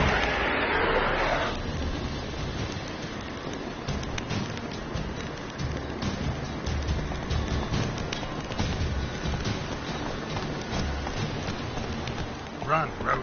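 Roach the horse gallops across open ground in The Witcher 3, a steady pattering clip-clop of hooves under a dense wash of game ambience and music, continuous for the whole stretch.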